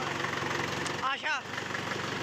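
A Swaraj 69-11 tractor engine idles with a steady low, even throb, close and constant, while someone briefly speaks over it.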